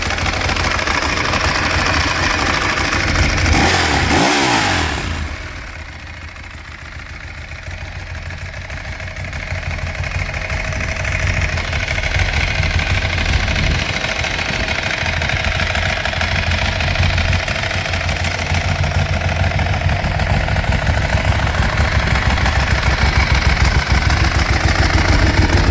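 A 2010 Ducati Streetfighter S motorcycle engine running loud and close, a throbbing idle with a quick rev near the start, then settling back into a steady, lumpy idle that carries on for the rest of the time with no talking.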